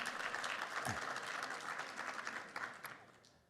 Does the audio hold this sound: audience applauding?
yes